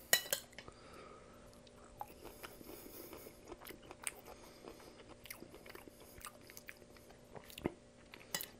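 Close, quiet chewing and biting of soft cooked cabbage with a slight crunch in Southern comfort food, irregular moist bites and crunches with faint clinks of dishes or cutlery in the background.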